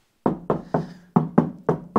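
Seven firm knocks on truck door panels lined with sound deadener, each a solid, dull thud in an even rhythm with a short pause midway, close and loud with no talking.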